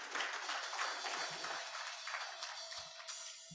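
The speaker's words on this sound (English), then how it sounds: "Let's give him a round of applause" Applause rises from an audience at a church gathering honoring a bishop, a soft, steady wash of many hands that sounds faint and somewhat distant throughout.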